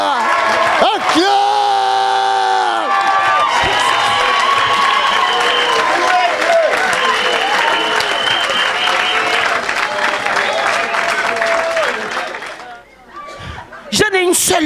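A church congregation claps and cheers loudly and continuously for about twelve seconds, with a thick crowd roar and chatter mixed in before the applause drops away and a voice cuts in at the end.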